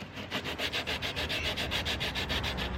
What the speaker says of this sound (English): It's pretty much what I'm doing, is sanding it down till it gets smooth.